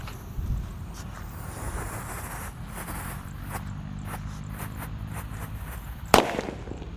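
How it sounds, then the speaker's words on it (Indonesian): Disco Happy Flower firecracker set off outdoors during Eid celebrations: a low rumbling whoosh builds, a buzzing spin carries on for a few seconds, then one sharp loud bang ends it, with wind noise throughout. "Selanjutnya yang akan kita nyalakan di sini ada mercon disco Happy Flower."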